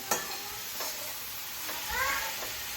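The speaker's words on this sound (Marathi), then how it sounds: "बघा कांदा फ्राय होतोय" Chopped onions fry in a pan with a little salt for a spicy dried-fish sukat dish, giving a steady soft sizzle with faint stirring scrapes and no talk.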